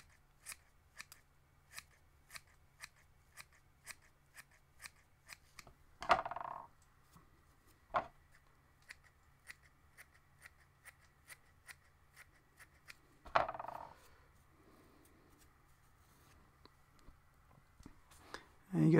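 Scissors snip fishing line for a bunny lure in a steady run of sharp, close clicks, with a few louder cuts spaced through it and quiet talk in places.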